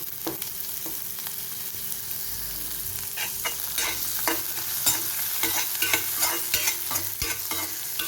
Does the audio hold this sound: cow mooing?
no